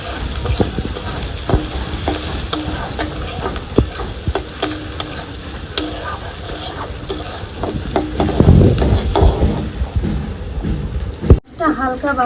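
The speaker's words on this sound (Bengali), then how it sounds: "তেলের মধ্যে দিয়ে দিব। একটু নাড়া দিয়ে পেঁয়াজটা দিয়ে দিব।" Chopped onion tipped into hot oil in a home kitchen pan while cooking shrimp with kochur loti, crackling and sizzling steadily as a spoon stirs with scraping knocks, fairly close.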